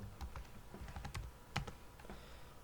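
Keys clatter on a computer keyboard in a loose run of taps, including a Control V shortcut and a short word being typed, close and fairly quiet with no voice over it.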